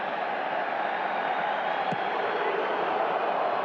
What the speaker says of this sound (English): Now you can hear the energy of the crowd much more loud than we've heard throughout.